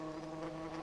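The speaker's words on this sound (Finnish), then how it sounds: "sehän onkin ampiainen ja sillä on myrkkypiikki pyllyssä" Steady insect-like buzzing of a wasp in a puppet theatre show, a continuous droning hum with harmonic bands, moderately loud and without talk.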